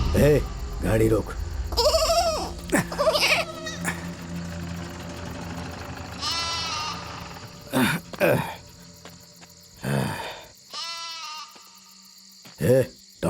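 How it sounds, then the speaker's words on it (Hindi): A goat bleats several times in a dusty rural village scene at night, its wavering cries rising clearly above surrounding talk and background activity. "ये बकरी यहाँ कहाँ से आ गई रे?"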